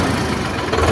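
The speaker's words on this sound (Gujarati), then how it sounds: "જો કોઈ ખોટો ધોવાળો નથી અને આરામથી ટ્રેક્ટર સ્ટાર્ટ થઈ ગયું." A Solis 5515 4WD tractor engine idles just after starting, a dense, steady rumble heard close up with no voices.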